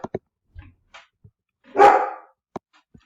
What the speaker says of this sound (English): stopped my video to get the dog hushed up for a moment